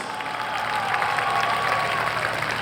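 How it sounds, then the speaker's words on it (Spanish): Steady applause from an audience, a dense even patter of clapping that holds at a constant level throughout, with a faint tone running beneath. "Damos un aplauso grande para recibila."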